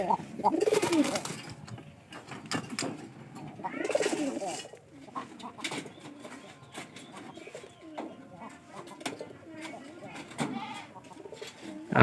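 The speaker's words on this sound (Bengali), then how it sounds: "পায়রাটা কিন্তু ডাক ভালো আছে।" Pigeons coo in bursts near the start and around the fourth second inside a loft, with more scattered calls later over a quiet background.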